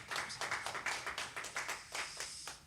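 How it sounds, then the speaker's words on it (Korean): A congregation at a Korean Presbyterian Sunday worship service claps together in a steady rhythm, about ten claps at even spacing, fairly faint and distant, with no talking. "하나님께 영광의 박수를 올려보내드리겠습니다."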